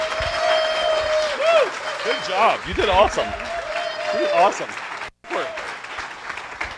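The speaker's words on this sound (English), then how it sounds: "Give her another round of applause." An audience applauds after a talk, the clapping running as a steady wash beneath close voices speaking over it, with a brief drop-out near the end.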